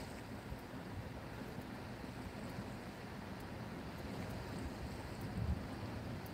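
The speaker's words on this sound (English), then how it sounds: "The wind is picking up crazy again there now." Strong wind blows across an open fishing spot, a steady low rumbling buffet against the microphone that swells slightly toward the end, with no talk.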